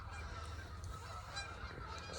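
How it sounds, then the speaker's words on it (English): Geese honk repeatedly at a distance, a faint chorus of overlapping calls in an outdoor wilderness setting. "the geese, they honked all night"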